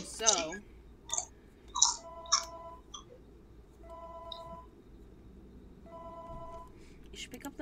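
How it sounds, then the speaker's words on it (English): Telephone ringing in the FNAF Coop Roblox game: repeated electronic ring tones in short bursts, three separate rings spaced about two seconds apart, mixed with clicks and brief speech-like sounds. "You should pick up the phone, Blue."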